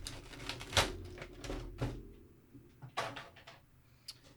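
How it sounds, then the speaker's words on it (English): Stiff plastic packaging is pulled off an S.H. Figuarts Frieza action figure and pod, quiet close-up crackles and snaps in a few separate bursts with short pauses between. "I'll just remove this plastic here."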